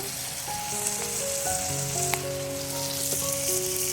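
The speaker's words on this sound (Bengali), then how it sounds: "এবার লঙ্কাটাও ছেড়ে নেব।" Green chillies frying in hot oil give a steady, close sizzle with a few sharp crackles and pops, along with faint tonal background music and no talk.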